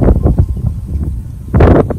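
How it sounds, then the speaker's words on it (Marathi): Wind gusts buffet the microphone in heavy, rumbling bursts, with a stronger blast near the end, at Kanheri Caves in the national park. "वारा यार."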